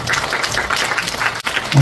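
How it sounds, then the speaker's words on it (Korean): Audience applause fills a Korea–Denmark peace education international forum in Pocheon, greeting the city council chair as he takes the stage; dense, steady clapping continues throughout with a brief dip near the end. "다시 한번 힘찬 박수로 맞이해 주시기 바랍니다."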